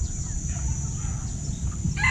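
Chickens cluck close by in a rural yard, short soft clucks over a constant low background rumble.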